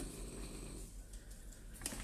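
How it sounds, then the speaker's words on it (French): A sleeping dog snores nearby with low, rumbling breaths, faint and rhythmic, with a small snort near the end. "J'ai mon chien qui ronfle."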